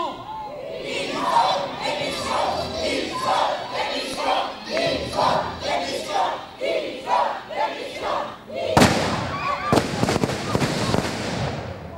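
A crowd shouts and chants in rhythmic bursts during a staged outdoor sound-and-light historical show in Brebotte, France, then two sharp, loud gunshot bangs from a staged volley ring out a second apart.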